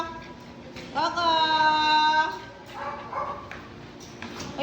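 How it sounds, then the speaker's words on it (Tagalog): Several dogs at a home Christmas gathering yip and bark in a loud, close burst, one high drawn-out whine-like bark followed by shorter barks, with people talking around them. "Hoy, bilangin niyo yung mga aso."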